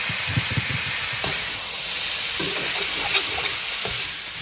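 Boiled pork frying with ginger and garlic in a pan for Assamese pork curry, a loud continuous sizzle and steam hiss with a few clinks and stirring knocks, no talk.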